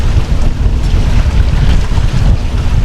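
A 20-ton sailboat in the Bahamas surges fast through the water at about 8 knots, with loud, constant wind buffeting the microphone and rushing water close by.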